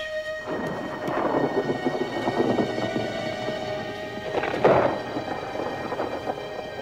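Thunder rolls through a rainy storm with lightning in a 1991 French TV film, a long rumbling build and a louder crack-like burst later, over steady rainfall.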